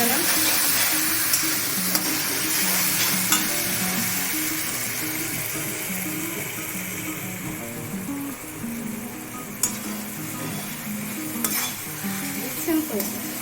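Spices frying in a pan for a Bengali cabbage dish as a little water is added, a steady loud sizzle and hiss with occasional sharp spatters and stirring, no talking.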